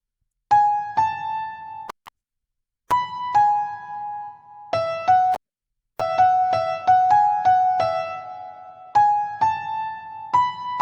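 Switch section of a Christmas song, with clipped synth chord stabs in bursts separated by silences, then a denser run of quick rhythmic chords, clear and prominent with no voices.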